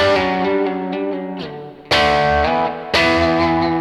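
Electric guitar power chords through a distortion pedal, a few chugged strums then two big ringing chords struck hard, loud and close with no voices.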